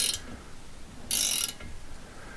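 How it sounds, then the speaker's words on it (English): Nut turned on a threaded puller to draw a worn valve guide from a VW 2-litre air-cooled cylinder head, giving two short metallic ratcheting squeaks, close and fairly quiet. "Turn nut, out comes worn guide."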